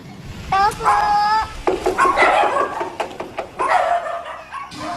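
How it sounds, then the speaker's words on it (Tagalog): Several dogs bark in short bursts, some yips mixed in, moderately close, at a mansion in Pangasinan, with a busy background and occasional voices. "Maliban sa tahol ng mga aso, tahimik sa bahay ni Ronnie Palisok Dayan"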